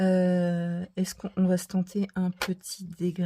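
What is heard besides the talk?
No distinct noise like a dog, phone or traffic.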